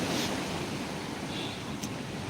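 Rough, churning sea surf at Digha beach on a moon-night high tide, a steady loud wash of breaking waves with gusty wind buffeting throughout.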